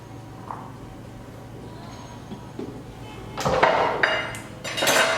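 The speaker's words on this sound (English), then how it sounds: "Put it into our serving dish bowl." Cooked beets are tipped into a serving bowl, heard as a cluster of clinks and clatters of dishware late in the clip after quieter handling sounds, close and moderately loud.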